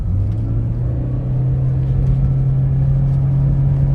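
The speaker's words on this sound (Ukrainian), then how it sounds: "Я нажимаю газ в пол." A 2018 Toyota Auris 1.8 hybrid roars under full throttle, its engine holding a steady, loud drone at one pitch for several seconds with only a slight rise, close and continuous with no talk over it.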